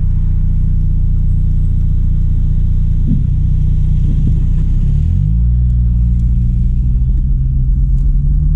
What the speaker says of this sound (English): Ah, another truck coming.